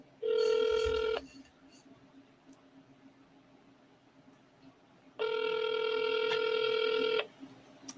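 An outgoing telephone call rings back in the earpiece with two long, steady electronic tones separated by a few seconds of near silence. Both are clear and fairly loud.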